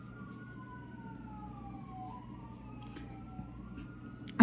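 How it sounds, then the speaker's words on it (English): Sirens wail outside, heard faintly from indoors as two rising and falling tones that overlap and drift, steady over a low background hum with no speech. "I'm just hearing sirens outside."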